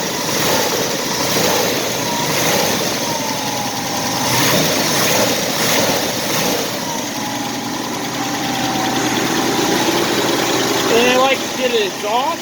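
A car engine idles steadily after a cold start, a continuous loud rumble with a faint whine and light vibration, ending with some short chirping sounds near the close.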